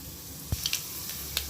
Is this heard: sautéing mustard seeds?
yes